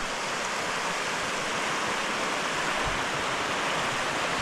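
A big river in Wales flows steadily, a constant broad rushing wash of water that stays loud and even throughout with no voices over it.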